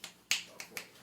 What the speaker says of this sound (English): Could snap instead of clap.